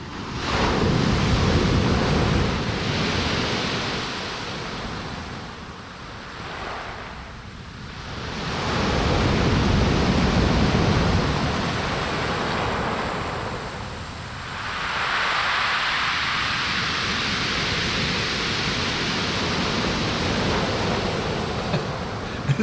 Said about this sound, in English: you can hear that water coming right to your feet,